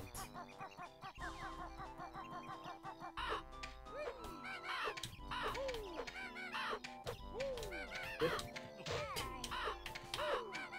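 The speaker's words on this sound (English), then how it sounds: "Birds!" Squawking birds in the video game Banjo-Kazooie: harsh, repeated cartoonish caws and cackles over a bouncy background music track, with several sharp calls overlapping near the end.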